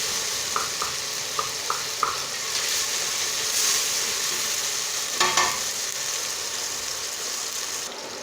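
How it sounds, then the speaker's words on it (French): Water heating in a pot on the stove while soup vegetables are being prepared, giving a steady soft sizzling hiss with a few light clicks early on and a brief louder burst near the middle. "si vous entendez du bruit, j'ai mis l'eau à chauffer."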